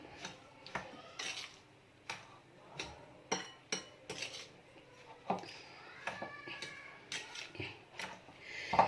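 Sugar being mixed into homemade khoya in a bowl with a spoon, giving soft, irregular clicks and taps of the spoon against the bowl, each brief and fairly quiet in a still room.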